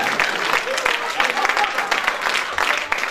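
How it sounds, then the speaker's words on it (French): A theatre audience at a live show applauds, dense, steady clapping from a crowd filling the room for the whole stretch at moderate loudness. "On peut l'applaudir."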